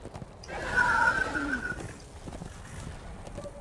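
Horse neighing in the video game Darksiders 2, a loud whinny rising and falling over about a second, followed by softer rustling and faint hoof-like knocks.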